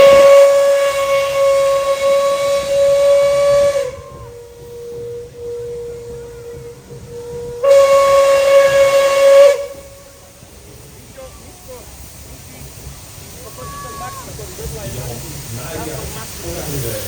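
A nostalgic steam locomotive sounds two loud, sustained whistle blasts, each about four seconds long, with a quieter stretch of steam hiss between them and a fainter hiss trailing off afterward.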